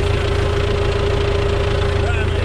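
A KAMAZ KDM road maintenance truck engine runs loud and close in a steady idle drone with a throbbing low rumble and no breaks.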